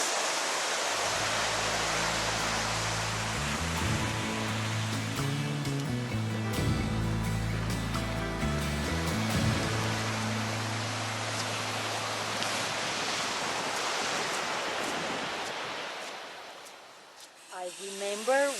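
Sea waves wash steadily onto a beach where storms and rising sea level push the water inland, a dense continuous roar of surf with low rumbling swells, loud and close, fading slightly near the end.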